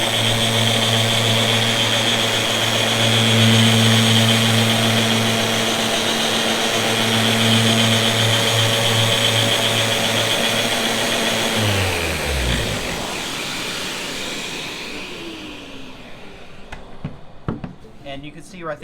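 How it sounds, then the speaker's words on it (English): Festool ROTEX 150 sander running in random orbit mode, a loud steady motor whine with whirring tones that winds down and stops near the end, followed by a few light knocks. "When you switch it to random orbit mode, which is the small circles right here,"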